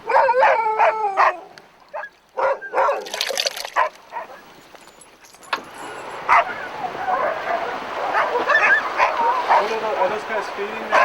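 Alaskan sled dogs in a dog yard bark, yip and howl together, a loud overlapping chorus with whimpers mixed in, heard close and continuous under occasional talk.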